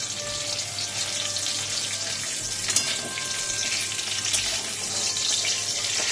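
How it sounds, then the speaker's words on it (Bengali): Bay leaves dropped into hot oil in a home kitchen pan while cooking a fish cumin curry, a steady loud hiss and sizzle with crackling throughout and no voices. "এবার মা ওতে তেজপাতা ফোড়ন দিয়ে দেবে।"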